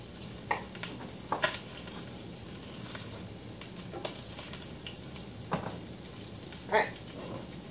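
Onion frying in a pan alongside cabbage and hash browns, a soft, steady sizzle with a few sharp clicks and scrapes of stirring, quiet and close with no talking.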